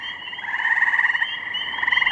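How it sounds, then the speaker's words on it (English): Gray tree frogs trill on a hot spring day, a steady pulsing chorus of several overlapping calls, loud and close, with no talk. "On the first hot day in May, gray tree frogs announce their arrival."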